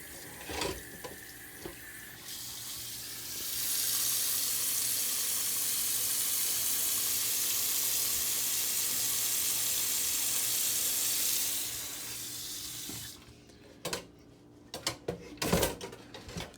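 Cold tap water runs in a steady, loud broadband rush for several seconds, then shuts off, leaving scattered clinks and handling noises nearby in a kitchen.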